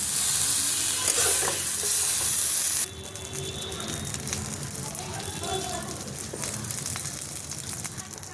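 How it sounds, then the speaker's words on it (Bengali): Broccoli florets dusted with a little turmeric fry in a wok, loud hissing sizzle at first, then a quieter crackle with spatula stirring and scraping, close by, with a voice heard over it. "এটা আমি একটু মেরে ফেলে ভালো করে ভেজে নেব বকুলিগুলো প্রায় ভাজা ভাজা হয়ে গেছে"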